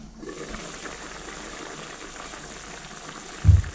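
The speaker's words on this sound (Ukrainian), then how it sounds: "Прикриваю кришкою та буду тушкувати хвилин з 30 приблизно." Meat stews in a covered pot with a low, steady bubbling and hiss, faint and continuous, with a brief louder knock near the end.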